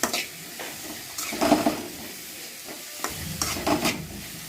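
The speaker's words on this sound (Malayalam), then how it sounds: "ഇനി നമുക്കിത് വരട്ടിയെടുക്കണം. നല്ലപോലെ മൂത്ത് ബ്രൗൺ കളർ ആവണം ഉള്ളി." Sliced onions with salt and turmeric powder frying in a pan until brown for a crab curry, a steady sizzle broken by repeated bursts of stirring and scraping, close and fairly loud, with no voices.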